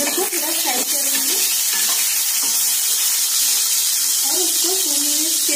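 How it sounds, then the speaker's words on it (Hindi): Brinjal frying in a pan, a loud continuous close sizzle with bubbling crackle, joined by occasional stirring scrapes, and faint talk underneath. "अभी हम ब्रिंजल को थोड़ा फ्राई करेंगे"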